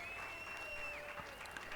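Crowd applause ringing out around the house balcony at the Festival of Speed as Bernie is celebrated, a steady moderate wash of clapping with a whistle-like tone sustained over it.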